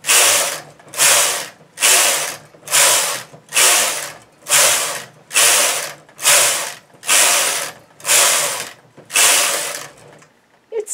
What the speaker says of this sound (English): Now I'll knit 12 rows for the outside of the hem.